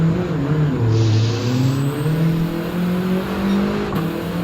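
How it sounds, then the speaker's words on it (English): A race car's engine pulls hard in Gran Turismo 7 on PS5, its turbo whistling over a loud, continuous tone that climbs and shifts steadily through the acceleration. "The turbo whistle sounds pretty cool."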